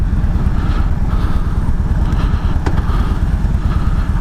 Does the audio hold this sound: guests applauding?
no